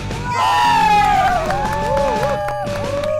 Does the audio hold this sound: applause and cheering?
yes